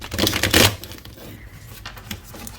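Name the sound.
shuffling a deck of tarot cards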